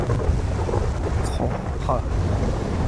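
Deep, continuous thunder rumbles with gusty, wind-like noise in the video game GTA V with the LSPDFR mod, and voices are faintly audible underneath.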